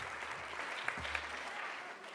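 Audience applause at a school board meeting, a crowd clapping steadily at a moderate distance, with a faint voice or hum underneath.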